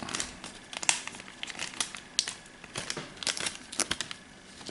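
A cardboard card is opened and punched out of a Zombicide Green Horde board-game add-on sheet, with quick, close crinkles, snaps and tearing pops in irregular bursts, and no speech.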